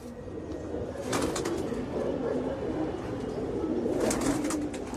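Pigeons coo softly on a rooftop, a low, rolling cooing that carries on steadily, with a couple of brief brighter bursts of activity standing out against it.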